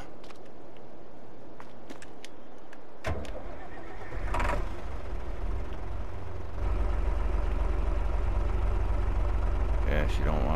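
A struggling tractor engine in the Farming Simulator 22 video game sputters and rumbles at low pitch, the steady drone stepping up louder partway through, with a few sharp clicks and bursts over it and no talk.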